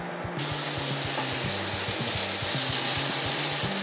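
Oil hits a thick, hot wok on small-to-medium heat for a beef stir-fry with pineapple and green and red peppers, bursting into a loud, steady sizzle that continues unbroken over a low, pulsing hum.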